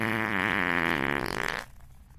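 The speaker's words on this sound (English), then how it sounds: "Yo, that's a fart gun." A fart gun fires in a Roblox Isaac fangame, letting out one loud, sustained, buzzing game fart that stretches for about a second and a half before cutting off abruptly into quiet.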